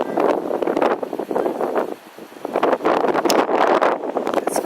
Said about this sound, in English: It's very windy, very, very windy. Getting blown away here by the wind.